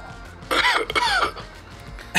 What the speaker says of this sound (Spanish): ¿Qué pasa que están tosiendo, chicos?